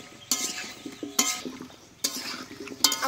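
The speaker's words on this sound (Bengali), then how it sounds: "এবার ভালো করে নেড়ে নেব" Salted bottle gourd stirred in a pot, four distinct scraping, clattering strokes of a utensil against metal spaced roughly a second apart, close and fairly crisp with quiet gaps between.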